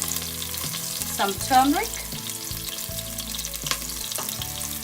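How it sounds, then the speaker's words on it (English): Green chilies and garlic splutter and sizzle in hot oil for an aloo mutter curry, with crisp popping bursts over a steady fry and a brief spoken aside. "you'll hear it'll start to splutter in a couple of seconds"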